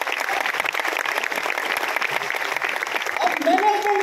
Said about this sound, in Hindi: यार इसी ग्रेट मैनेजमेंट के लिए जोरदार ताली होनी चाहिए।